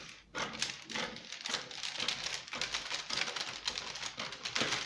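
Scissors cut fabric for an off-shoulder bustier, trimming the radius and flare length, giving a steady run of close, crisp snipping and slicing strokes with no talk over them.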